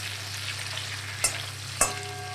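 Potatoes and tomatoes sizzle in oil in a kadai for a fish curry, a steady low frying hiss punctuated by two sharp utensil scrapes or knocks from stirring, close with no talk.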